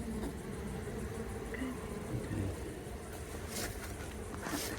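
Honeybees buzz steadily during a late-November hive inspection, a dense continuous hum of many insects close by, with a few brief louder swells near the end.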